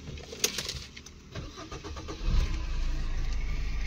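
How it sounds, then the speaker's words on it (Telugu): A 2015 Suzuki Swift VDI diesel car starts up with a close crank and catch, then settles into a steady low diesel idle rumble, with no talk over it. "వెహికల్ స్టార్ట్ చేస్తున్నాను చూడండి।"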